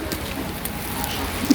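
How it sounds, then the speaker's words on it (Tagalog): Heavy rain beats steadily on a surface nearby, a dense, constant hiss with no breaks. "Lumakas na yung ulan."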